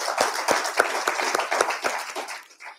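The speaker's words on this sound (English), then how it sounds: "let's clap hands for her" Rhythmic hand clapping from a small group at a gathering, sharp distinct claps in a loose steady beat for about three seconds, tapering off at the end.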